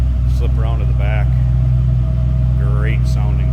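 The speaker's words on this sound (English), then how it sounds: "Great sounding car." A 2007 Ford Mustang Saleen Parnelli-Jones Edition V8 idles close by with a deep, steady low rumble throughout, while someone talks over it.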